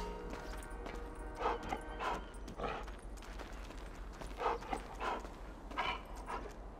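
Dogs in the video game Grand Theft Auto V, a run of quiet barks, yips and scuffling spread through the clip over a steady low background hum.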